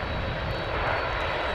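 A Boeing 787 Dreamliner jet taking off from an east-side runway at Dallas Fort Worth airport, bound for São Paulo, its engines giving a steady, loud, broadband roar that holds without a break.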